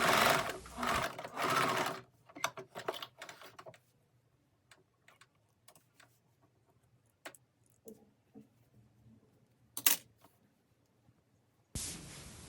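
A sewing machine stitching sweat pants, with a loud whirring run at the start, then scattered light ticks and clicks of fabric handling, one louder tap near the end and a final burst of stitching.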